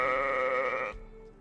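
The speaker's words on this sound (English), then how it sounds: "The sheep are a little weird sometimes, but that's okay." A sheep in the Medieval Dynasty video game lets out one loud, wavering bleat lasting about a second. It cuts off abruptly and leaves quiet ambience.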